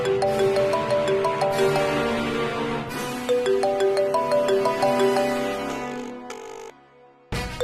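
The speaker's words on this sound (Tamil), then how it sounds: "இந்த நேரத்துல யார் ஃபோன் பண்றது?" A phone ringtone in a Tamil TV serial plays a loud, repeating melodic pattern of bright tones that cycles several times and then cuts off abruptly near the end.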